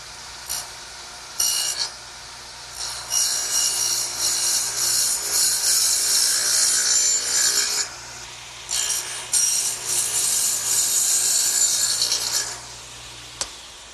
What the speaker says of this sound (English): let's turn it over and dado out for the shelf